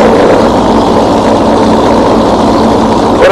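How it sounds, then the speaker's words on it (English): A tractor engine in a video game chugs with a loud, steady, low droning rumble. It continues without a break throughout. "What a great tractor."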